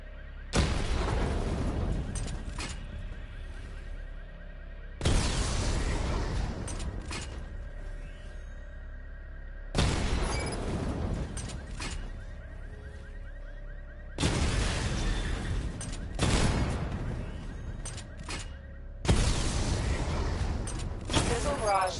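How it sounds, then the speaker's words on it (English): Missile barrage explosions in Batman: Arkham Knight, five loud booming blasts spaced about five seconds apart, each hitting hard and then decaying into rumble before the next. "Charge the missile barrage to level 2 to destroy up to 4 targets at once."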